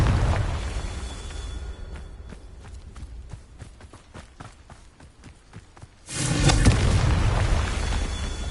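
A Confringo fire spell in Hogwarts Legacy lands with a loud, broad explosion burst near the end, after a quieter stretch of rapid clicking, thumping game sounds.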